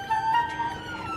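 An ambulance siren is heard briefly as the vehicle passes. A wailing tone sounds at moderate distance over low road noise, with no talking.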